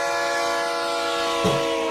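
A train horn sound effect blares as a sustained chord, steady and loud throughout, with a brief thump near the end and no speech.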